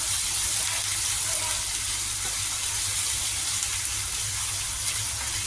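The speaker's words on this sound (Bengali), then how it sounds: "পেঁয়াজটা আমি সুন্দর করে লাল লাল করে একটু" Onions frying in a pan for bhetki fish curry give a constant, close hiss that stays even and unbroken throughout, with no voices.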